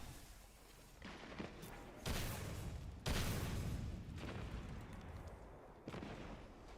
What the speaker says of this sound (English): Well-placed grenade.